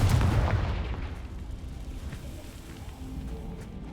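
A Confringo spell blast in Hogwarts Legacy lands as a heavy explosive boom that rolls off into a fading rumble over a few seconds.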